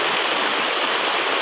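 Rainwater runs off a plastic tarp in a heavy village downpour, a steady, dense rushing patter that stays loud and even throughout with no voices over it.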